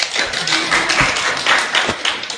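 Studio audience clapping on a Chinese talent show, a short burst of scattered, uneven hand claps at close range, a few sharp individual taps standing out from the patter.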